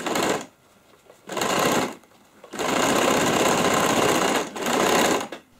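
Sewing machine stitching a bag made from jeans denim, running in close, loud bursts: two short runs, then a long steady stretch and one more run, with brief pauses between.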